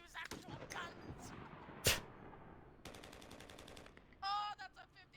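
Real gunfire recorded for video game sound design: sharp close shots and rapid automatic bursts, one loud crack standing out, with a person talking over and between the shots.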